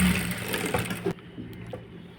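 A sewing machine stitching a blouse at the hand joint runs with a steady, fairly loud whir for about a second, then cuts off, leaving a quieter room with faint mechanical traces.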